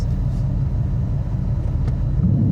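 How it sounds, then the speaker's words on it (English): A 2024 Dodge Charger Daytona Scat Pack electric car in drag mode and neutral gives off a deep, steady, close synthetic exhaust growl that holds throughout with slight swells, with no talk. "Putting it in neutral and drag mode gives us that ability to blip the throttle for a little bit of auditory entertainment"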